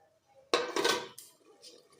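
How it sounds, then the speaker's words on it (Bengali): A metal pan stirred and clanked while cooking a Bengali potol doi posto, a sharp clatter of a spoon or lid on the pan followed by softer clinks, close and alone. "একটু নাড়া দিয়ে ঢাকা দেবো।"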